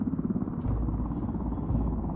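A helicopter in Ghost Recon Wildlands makes a steady, loud, low rotor rumble that thickens after the first half second and holds as a continuous drone.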